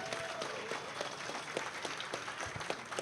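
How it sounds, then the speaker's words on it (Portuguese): A congress hall audience at a union gathering applauds in a dense, continuous patter of clapping, fairly distant and soft, holding steady without pauses. "uma salva de palmas para a atividade das mulheres ontem"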